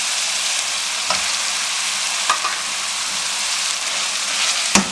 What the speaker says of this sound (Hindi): इसमें हम भुने हुए बैंगन डाल देंगे।